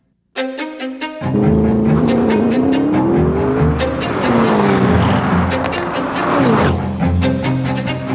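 A Mercedes-AMG GT63 launches hard toward 60 mph, its engine roaring loudly through rising gears with a brief chirp of wheel spin, one gearshift dip and the exhaust note climbing again, close and with no talking.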